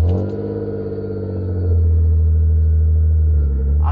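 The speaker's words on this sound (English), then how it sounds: "give you guys a cold start on pretty much what is the straightest of straight pipes on a 1998 M52 engine" A 1998 BMW E36 328 with an M52 straight-six and fully straight-piped exhaust idles right after a cold start, a loud, deep, uneven drone that swells a little higher partway through and then holds steady.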